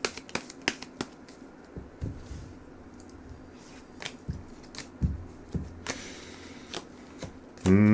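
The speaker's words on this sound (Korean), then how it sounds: "그리고 조언 카드 한번 뽑아보도록 하겠습니다" Tarot cards are handled and drawn, with a series of sharp card flicks and snaps spaced irregularly over a quiet background, close to the listener, ending in a brief louder rustle.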